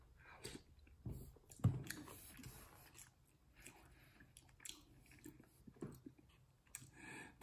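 Pasta in red sauce from a jar being eaten close to the microphone, with quiet chewing and soft wet biting sounds spread over several seconds with pauses between them.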